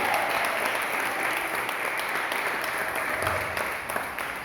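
A church congregation applauding together during a sermon, steady dense clapping that fills the space throughout without pause.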